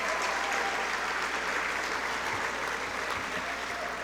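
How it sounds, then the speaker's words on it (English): An audience at a high school athletic banquet claps steadily for student athletes, a dense, even round of applause that carries on throughout. "You could give these kiddos a round of applause."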